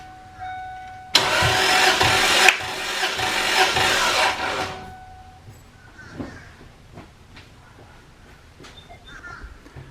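A Toyota 1JZ engine in a Fox Body cranks over on the starter during a compression test, a loud, steady churning burst of about four seconds that then stops, leaving quieter shop noise.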